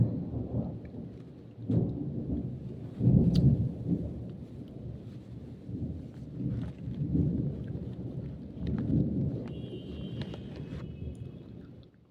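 Heavy afternoon rain pours steadily on surfaces while deep thunder rolls and rumbles repeatedly, swelling loudest partway through, with no voices over the storm.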